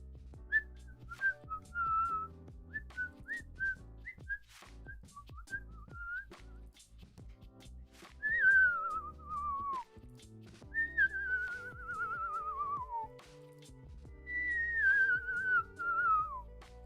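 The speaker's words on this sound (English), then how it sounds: "It's when you blow air through your lips and it makes a really high-pitched sound." A person whistles a series of short, high-pitched notes, then longer warbling phrases that slide downward, fairly close and clear over a low background hum.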